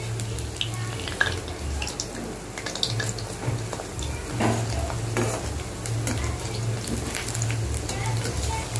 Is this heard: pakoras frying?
yes